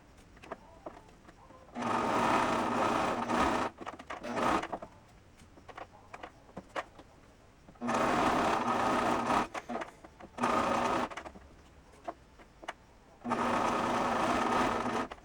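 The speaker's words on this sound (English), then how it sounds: "This is the sleeve base itself, the whole sleeve, that I am just stitching together" A sewing machine stitching together a costume sleeve in three loud, sustained bursts of several seconds each, separated by quieter pauses with faint handling noises.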